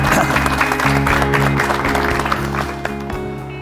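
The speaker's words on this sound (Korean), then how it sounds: "자, 우리 박상철 교수님의 강의 박수로 청해 듣겠습니다." Studio audience applauding at a televised New Year health lecture on living to 100, a dense, steady clapping that carries on loudly throughout, with a low tonal hum running beneath it.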